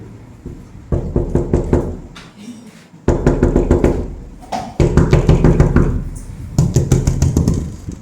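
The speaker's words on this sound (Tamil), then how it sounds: "கதவு தட்டுறாங்கப்பா." Knocking on a door in a Tamil thriller short film: repeated sharp raps in quick bursts of several blows, separated by brief pauses, loud and close.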